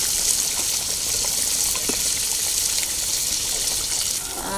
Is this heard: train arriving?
no